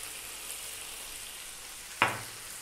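Spices and tomatoes with cumin, chili, cardamom and coriander frying in a pan, a faint steady sizzle with one sharp clatter or clink near the end.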